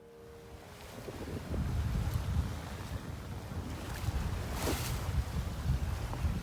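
A sailboat with one reef in the main crosses a strait in about 15 knots of beam wind. Steady broadband wind and water rush builds and holds, with hull and wave noise throughout and no talk.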